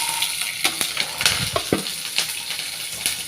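Ingredients dropped into hot oil for an Indian gooseberry (amla) pickle, a bright crackling sizzle with sharp pops and spatters, close and lively, with no voices.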